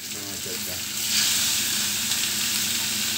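Oil sizzling in frying pans that have not fully heated, with a steady hiss that swells after a moment and a faint stirring clatter, close by with no talking.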